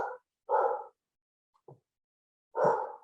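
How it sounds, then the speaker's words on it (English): A dog barks in the background, several short separate woofs and a quieter yip spread over a few seconds, with silence between them and no talk. "You can hear my son's dog in the background."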